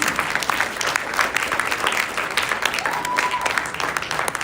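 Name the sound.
audience applause after dance performance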